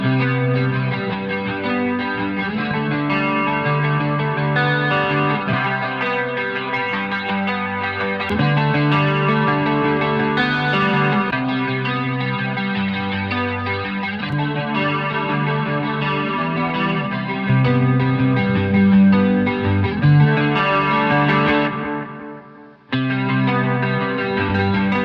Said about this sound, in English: I love some of those ones with the modulation where you can get that really swirling effect